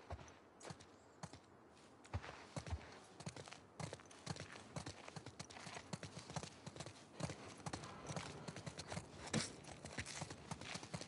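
Horse hooves clip-clop in a PlayStation 4 video game, a quick irregular stream of hollow knocks at a steady walking pace running throughout, fairly quiet and with no talk over them.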